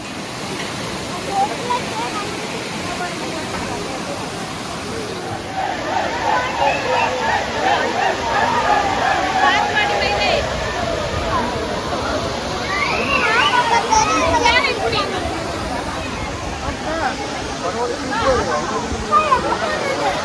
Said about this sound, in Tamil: வாங்க இப்போ நேராக வாட்டர் ஃபால்ஸ் போகலாம்